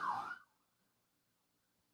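An ambulance siren wails briefly as the vehicle passes, a loud burst at the start that cuts off quickly into near silence.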